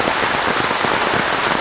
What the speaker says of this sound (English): it's still raining. And if anything, it's getting heavier